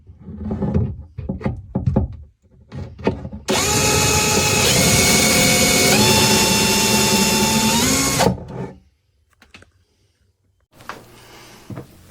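A power drill drives screws into a recessed shelf built into a fireplace, running loud and close in one steady burst of about five seconds, with the pitch shifting as the screw sinks. Knocks and handling thuds come before it and a short rustle after.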